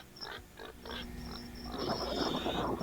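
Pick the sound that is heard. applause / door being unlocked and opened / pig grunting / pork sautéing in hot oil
pig grunting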